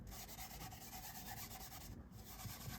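A plastic embossing buddy is rubbed back and forth over a sheet of Blackberry Bliss cardstock, giving a steady close-up scuffing swish with no voices.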